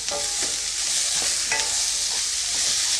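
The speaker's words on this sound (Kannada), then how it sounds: "ಒಂದು ನಾಲ್ಕು ನಿಮಿಷ ಇದನ್ನು ಮೀಡಿಯಮ್ ಫ್ಲೇಮಲ್ಲಿ ಚೆನ್ನಾಗಿ ಫ್ರೈ ಮಾಡ್ಕೊಳ್ಳಿ" Vegetables for paneer fried rice fry over medium flame in a pan, a steady close sizzle broken by repeated scraping strokes of a spatula stirring them, with no voices.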